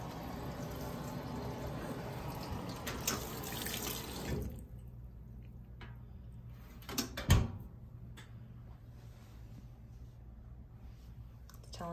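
A Speed Queen top-loading washing machine fills with water, a loud gushing rush that stops after about four seconds, followed by quiet clicks and small knocks from the machine.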